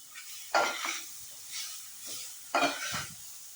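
Grated carrots stirred and sautéed in ghee with roasted semolina for carrot halwa, with soft sizzling and a few scraping stirs of a spoon in the pan, close and fairly quiet, no talk.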